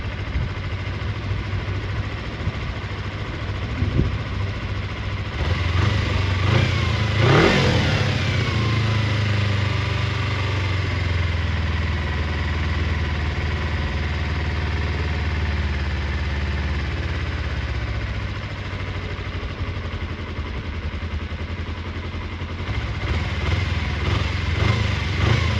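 Kawasaki Eliminator EL 250 motorcycle engine running after sitting with petrol-contaminated oil, a steady mid-pitched idle with a couple of revs rising and falling over about twenty-five seconds, close by and unaccompanied by talk.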